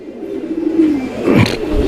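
Lahori pigeons coo with low, soft, throaty calls, close by and fairly steady over a faint background.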